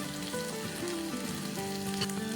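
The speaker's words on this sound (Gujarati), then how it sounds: "આદુ, લસણ અને મરચાંનો જ્યારે વઘાર કરીએ ત્યાર પછી સુગંધ ખૂબ જ ફાઇન આવે છે" Ginger, garlic and green chili tempering sizzles steadily in hot oil for a Surat-style street food dish, a loud, continuous crackling fry with faint tonal hum underneath and no voices.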